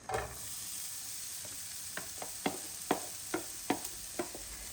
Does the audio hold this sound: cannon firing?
no